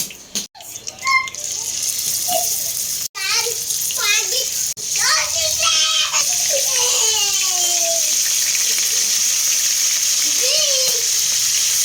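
A tuna head fries in a pan with a bright, steady sizzle that builds and holds. Children and adults talk over it, and there are a few sharp knocks near the start.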